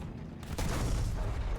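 A deep, booming gunshot in a first-person battle royale video game, one sharp report followed by a rumbling tail, fairly faint and heard alone without talk.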